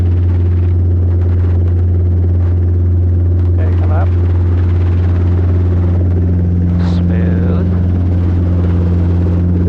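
A Robinson R22 helicopter lifts off for a training flight, its engine and rotor giving a steady loud drone with constant low hum throughout, while a voice speaks over it on the intercom.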